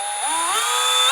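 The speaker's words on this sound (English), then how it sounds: "What we're drilling out are these 2 holes right here." A drill runs at high speed through the fuel pump housing of an MK7 car, a steady whining tone that climbs in pitch for a second, loud and close, with no voices.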